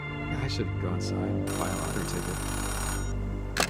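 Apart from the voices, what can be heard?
payphone ringing in video game Oxenfree 2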